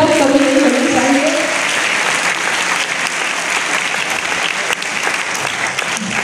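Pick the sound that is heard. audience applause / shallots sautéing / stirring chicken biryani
audience applause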